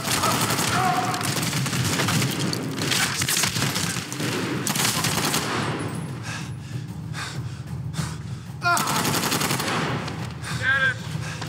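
Gunfire in the video game Medal of Honor Warfighter, rapid bursts of automatic shots loud at the start, thinning to intermittent shots with some breathing and game effects.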